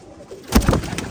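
A pigeon coos nearby in a short burst of soft, throaty notes, loud and close with little else around it.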